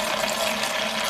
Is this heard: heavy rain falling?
no